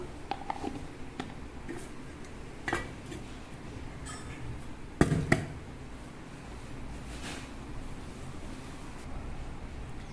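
A lid is set onto a pot of kuzhambu with a brief metallic clank and a small rattle, against quiet kitchen background noise.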